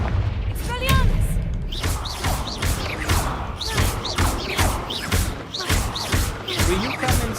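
Confringo fire-blast spell bursts repeatedly in Hogwarts Legacy combat, loud booming thuds in rapid succession amid other spell effects, with a voice shouting over them.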